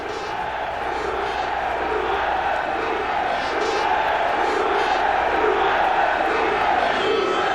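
Juventus supporters at Heysel stadium during the 1985 European Cup final, a dense, continuous roar of massed chanting and cries that holds steady and loud throughout.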